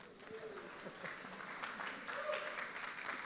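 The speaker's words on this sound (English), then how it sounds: "And you can get excited and clap." Moderate clapping from a small audience at an Australia Day citizenship ceremony, a steady patter of hands heard from a little distance, with some voices murmuring underneath.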